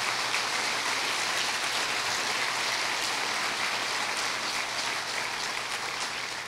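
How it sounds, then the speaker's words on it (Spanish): A church congregation applauds during a Spanish-language sermon, producing a dense, steady wash of clapping that holds at an even level for several seconds without breaks. "Dale otro aplauso al Señor"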